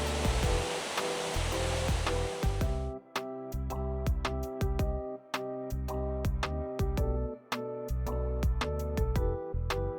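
Roaring, broadband rush of water from Nomizo Falls in Chiba, Japan, fills the first three seconds, then cuts to steady tonal music for the rest.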